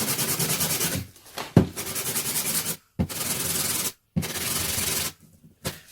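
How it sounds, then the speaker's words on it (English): Sandpaper rubs over a hardened white paper ball in steady, close strokes, broken by several abrupt pauses of silence between bursts of scratchy friction. "I'm going to just start sanding this down now"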